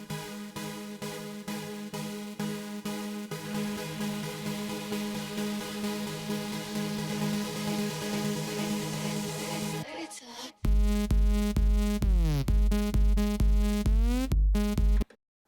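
A dance track plays through a build-up of quick repeated pulses and rising synth tones, cutting to a brief gap before heavy pounding bass beats and sweeping synths drive in loudly.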